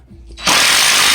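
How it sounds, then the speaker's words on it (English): A DeWalt drill driving a screw into pallet wood kicks in abruptly with a loud, dense rattling burst after a faint lead-in, its ratcheting clutch chattering continuously. "this has a ratcheting feature. You'll hear it here in a second as soon as it starts to burrow in."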